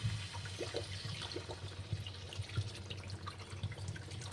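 Water poured into curry cooking in a pan, a soft steady trickle and light splashing at low level, with faint bubbling underneath.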